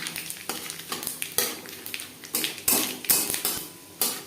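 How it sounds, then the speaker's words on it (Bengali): Panch phoron and a bay leaf fry in oil with chillies, giving a crackling sizzle. Rapid sharp pops and scrapes of a spoon against the pan come close together throughout. "লঙ্কা ভেজে নেওয়ার পর দিয়ে দেবো এক চামচ পাঁচফোড়ন একটা তেজপাতা"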